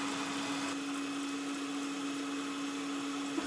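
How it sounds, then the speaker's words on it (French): Electric mixer whipping salted egg whites for a birthday cake, a steady, even whirring drone with a faint high motor whine that runs unbroken throughout. "je vais monter les blancs en neige"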